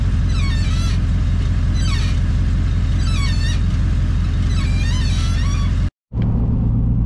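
Loud, constant engine rumble from a Chevrolet Silverado pickup truck with a rhythmic whining, grinding squeal repeating about once a second, cutting off abruptly near the end.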